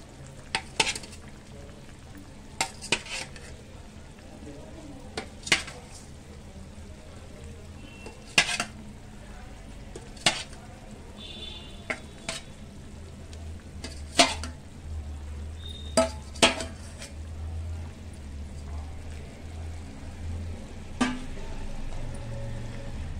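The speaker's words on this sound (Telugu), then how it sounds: "సో ఇప్పుడు ఇందులో ఎగ్స్ కూడా వేసేసుకుందాము" Eggs go into a simmering masala egg curry in a pot, with a soft bubbling sizzle underneath and sharp metallic clinks of a spoon against the pot recurring every second or two.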